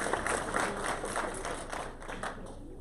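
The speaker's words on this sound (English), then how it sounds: "So please, another round of applause for them" Applause from a conference audience at a women in tech summit, a moderate, steady patter of many hands that eases slightly toward the end.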